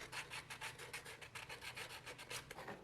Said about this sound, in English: All of my pieces have been sanded.